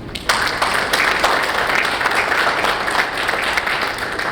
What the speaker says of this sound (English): So let's give him a round of applause, please.